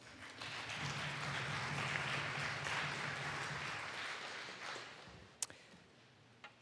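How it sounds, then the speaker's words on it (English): Applause from legislators in the Colorado House chamber during an extraordinary session, a quiet, steady patter of hands lasting about five seconds before fading into the room's murmur, with a couple of sharp knocks near the end. "Round of applause."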